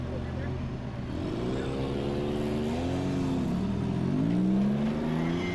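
An Unlimited Pro Class rock crawler climbs a trail gate, its engine revving up and down in rising and falling surges at moderate distance, with a voice talking over it.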